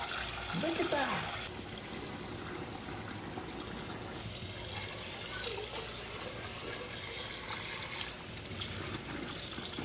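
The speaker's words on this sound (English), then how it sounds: "Let me go ahead and turn on the cold water first." Cold water runs from a kitchen tap into a sink, used to chill Korean naengmyeon noodles, making a steady, close hiss and splash throughout. A brief voice rises near the start.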